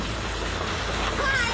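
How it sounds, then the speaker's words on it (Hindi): Rain mixed with hail pours down on a house in Sirmaur, Himachal Pradesh, making a dense, steady hiss of drops striking surfaces throughout, fairly loud and close with no clear talk. "बारिश के साथ ओले पड़े"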